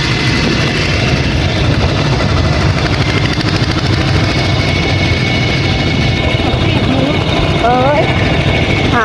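A tractor engine runs in a Thai rural setting, a continuous loud low rumbling drone with steady throb, while someone talks over it.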